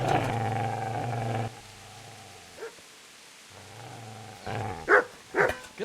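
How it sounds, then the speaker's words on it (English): A dog in the game Kingdom Come: Deliverance growls in a long low rumble, pauses, then breaks into a few sharp close barks and snarls. "Get away, you mutt!"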